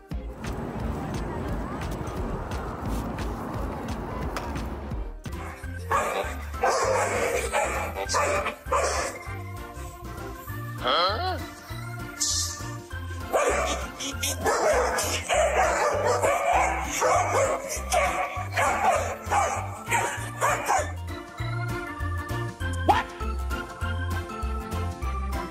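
Husky dogs bark and yip in repeated bursts after a quieter opening, with some whimpering and a jingling tag, the calls close and loud throughout the stretch.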